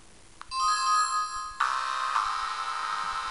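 A handheld Sega Mega Drive/Genesis console by Blaze/ATGames plays Sonic 1 Mega Mix, a ROM hack of Sonic the Hedgehog 1, with bright tonal synth notes and chimes starting after a click and continuing in layered tones.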